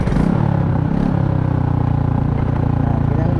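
A motorcycle engine drones close by on a shortcut road through a forest, a steady mid-pitched hum with slight revving and some rattling clatter.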